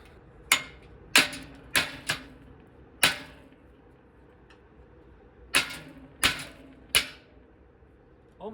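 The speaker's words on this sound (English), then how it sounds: "I can get a lot of force on the wedge with this if I can just hammer on this" Sharp metal hammer blows drive a wedge on a swamp bike, landing as eight or so loud, isolated strikes with irregular pauses between them, some in quick pairs, each ringing briefly before fading.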